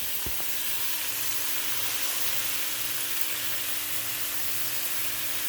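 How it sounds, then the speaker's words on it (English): Cabbage sautéing in oil in a pan gives a steady, close sizzle with crackling frying noise throughout, with no talking over it. "just keep letting it saute down for a couple minutes"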